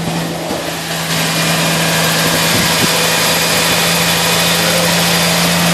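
A Vortec LS truck engine runs at a steady idle just after a throttle body swap, with a faulty throttle position sensor code still set; a continuous loud, even drone with a constant hum, no revving, no talk.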